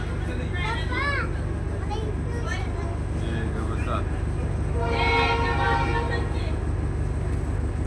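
A train at Kurduwadi railway station, heard from a bridge: a steady low rumble of rail traffic throughout, with someone speaking over it and another voice joining later.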